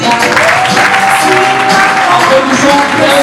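Wedding guests at an official wedding ceremony applaud in a steady, dense wash of clapping, with a sustained tone and some voices mixed in underneath.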